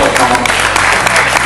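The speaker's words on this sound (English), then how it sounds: "Clap up for Nikki Garr." A crowd applauds a woman being presented with a gift, producing a brief, loud and steady burst of clapping with a low hum underneath.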